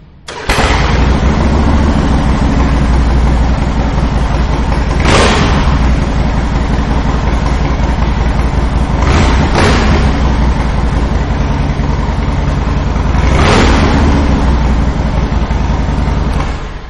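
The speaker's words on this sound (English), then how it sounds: "As you can hear, the upgrade of that exhaust system sounds fantastic on this motorcycle." A 2005 Harley-Davidson Fat Boy Peace Officer Special Edition with a Vance and Hines exhaust runs loud and close, a steady deep rumble with several brief throttle blips spread through the stretch, no talking over it.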